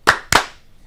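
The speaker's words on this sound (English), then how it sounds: "2 claps." Two sharp hand claps ring out close and loud, a quarter second apart, each with a short decay into quiet.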